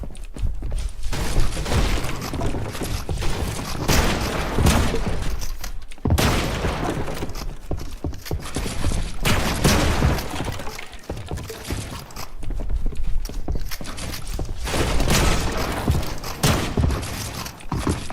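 Dense, continuous gunfire and explosive booms from a Fortnite match, loud and sustained throughout with only brief gaps, the shots blurring into a chaotic battle din.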